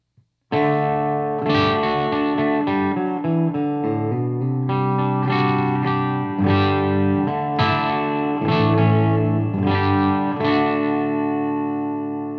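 Electric guitar played through an ENGL Special Edition tube amp on the clean channel with depth and reverb engaged, with chords ringing out and sustaining, loud and alone.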